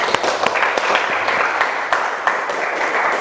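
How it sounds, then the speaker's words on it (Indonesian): Students clap together in a classroom during an Islamic religious education lesson, a dense, steady burst of many hands with sharp individual claps standing out, sustained at even loudness throughout. "Tepuk tangan."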